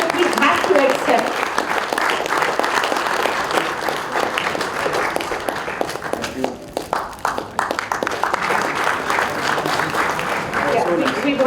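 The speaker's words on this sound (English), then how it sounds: "I think we can have a huge round of applause" Sustained audience applause fills a large conference hall at an international business conclave, dense and steady throughout with brief voices mixed in under the clapping.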